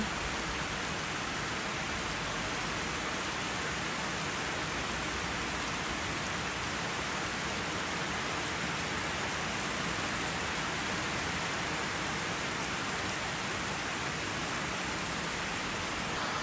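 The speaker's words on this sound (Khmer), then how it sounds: "ដើមផ្កាបានភ្លៀងធ្លាក់ខ្លាំងពេក" Heavy rain falls steadily on a village, a dense, continuous hiss and patter with no breaks and no voices.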